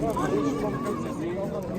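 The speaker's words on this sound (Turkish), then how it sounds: "Жылқы." A horse at a livestock bazaar whinnies in a long, wavering call close by, set against a busy market din with people talking.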